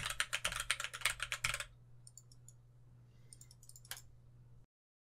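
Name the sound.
keyboard typing and mouse clicks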